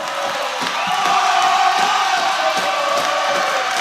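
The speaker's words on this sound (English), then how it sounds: "Now we got the crowd going on." A crowd of spectators at a high school volleyball match cheers and whoops loudly and without a break, voices rising and falling in a dense, roaring wash.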